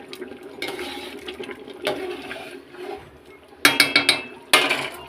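A spoon stirs a pot of curry just after garam masala powder goes in, as a pachan dish cooks: soft scraping, then a quick cluster of metallic clanks and one more sharp clatter near the end.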